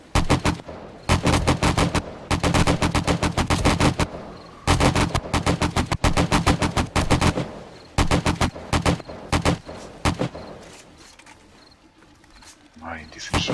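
Rapid bursts of gunfire and explosions in the video game 7 Days to Die during a blood moon night, loud repeated volleys with short pauses between them, then quieter stretches as someone speaks Swiss German over the action.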